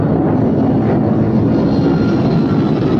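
A small airplane engine drones steadily in flight, a loud continuous hum that stays close and unbroken throughout.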